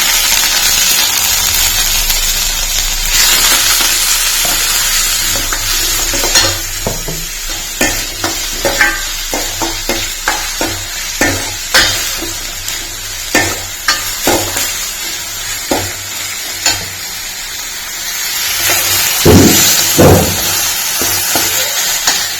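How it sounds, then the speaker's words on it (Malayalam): Mustard seeds, crushed garlic, ginger, shallots and onion frying in coconut oil for tomato rasam, a loud continuous sizzle broken by a string of sharp clacks and scrapes from a spoon stirring against the pan. "വെളിച്ചെണ്ണ ഒഴിച്ച് കടുകൊട്ടിച്ച് വെളുത്തുള്ളി ചതച്ചത് ഇഞ്ചി ചതച്ചത് ഉള്ളി ചതച്ചത് സവാള ചതച്ചത്"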